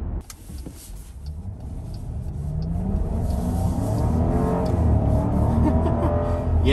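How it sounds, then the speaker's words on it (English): V8 engine of a 2022 Jeep Grand Cherokee burbling while driving, a steady low rumble that swells gradually louder and fuller over several seconds, heard from inside the cabin with no talking. "It's nice to have that V8 burble when you're just cruising around."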